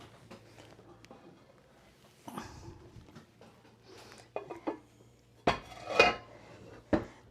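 Metal pans clatter and knock together as a larger pan is pulled from a kitchen cupboard, a few sharp bangs and rattles after a quiet stretch, close and loud.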